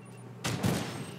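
A single burst of gunfire in The Division 2 erupts after a quiet moment, close and sharp, then trails into a short echoing decay.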